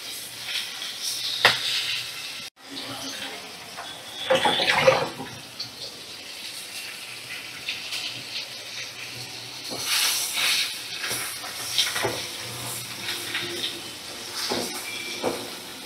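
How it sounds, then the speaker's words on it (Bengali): A hilsa fish head fries in a pan over medium flame, giving a continuous close sizzle and hiss with occasional louder crackling bursts. "মাথাটা ভালো করে ভাজা ভাজা করে নেব,"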